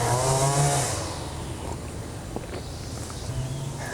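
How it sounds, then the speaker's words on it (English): A gas-powered weed whacker whines outdoors at moderate distance, its high engine drone swelling, easing off and rising again over a few seconds with no talking. "Weed whacker's back, give me a second."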